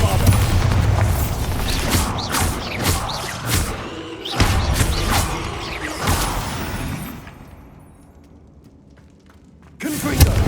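Repeated Bombarda spell explosions in the Hogwarts Legacy video game, loud booming blasts and crashing debris bursting in quick succession, a lull of fading rumble, then another heavy blast at the end.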